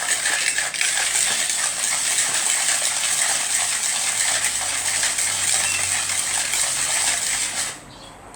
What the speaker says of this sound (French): On vient mélanger.